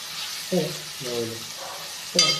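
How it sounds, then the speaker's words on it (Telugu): Chicken curry with liver pieces frying in oil in a pan, a steady sizzle with a few stirring scrapes, close and moderately loud, alongside brief low voice-like sounds. "ఇది కూడా మంచిగా ఆయిల్లో ఫ్రై అవుతుంది అన్నమాట"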